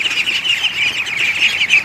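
Young ducklings on a Texas farm chirp in a steady, high, overlapping peep chorus, close and fairly loud, with no voices.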